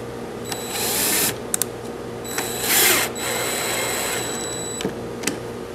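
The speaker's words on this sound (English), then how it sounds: "You just want to drive them down until they're snug, but, but no, no farther because you'll blow the whole, hole out." A power drill drives screws into a wooden bench top in several close, loud whirring bursts separated by short pauses, with no talk.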